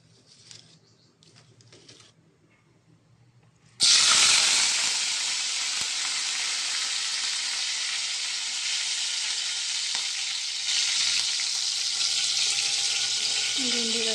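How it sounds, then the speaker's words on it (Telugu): Curry leaves crackle and sizzle loudly as they drop into hot oil in a pan, a sudden burst that settles into a steady, close hiss. Faint kitchen noise is heard beforehand. "ముందు కరివేపాకు వేసుకుందాం."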